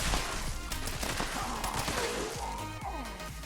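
Dense, rapid gunfire from a two-shot explosive .25 caliber gun in the game Fallout 76, a busy stream of cracks and explosive pops running throughout at moderate loudness.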